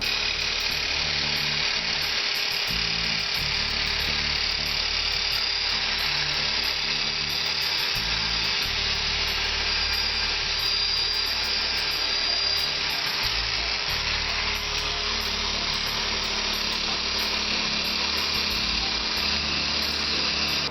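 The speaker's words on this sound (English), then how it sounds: "Buffing it out might work a little better with this particular wheel." A buffing wheel whines continuously and loudly while polishing the fuel tank of an XR600R motorcycle, with a low motor hum that rises and dips in pulses every few seconds and no talking.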